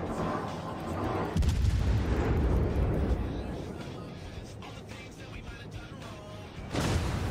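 Ship guns thunder in a World of Warships naval battle, heavy booming salvos rumbling low with a long decaying tail, a second burst arriving near the end.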